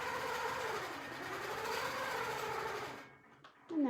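A longarm quilting machine stitches steadily in a close, continuous mechanical hum with a fast rhythmic whir, stopping near the end, followed by a short clunk and a brief voice.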